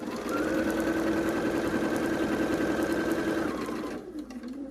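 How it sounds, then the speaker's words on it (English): A sewing machine runs steadily for about three and a half seconds while stitching quilt pieces for an Ohio Star block, a close, continuous mechanical whir that cuts off near the end and leaves only a quieter hum. "I'm going to flip it over and sew it next"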